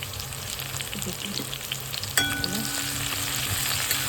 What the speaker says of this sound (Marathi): फ्राय करून घेऊ आपण, मस्त भाजून घेऊ